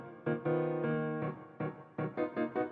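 A layered chord melody programmed in music production software for a sample loop, with bouncy rhythmic stabs of stacked harmonic notes, some held longer, then short repeated hits, played alone and clear.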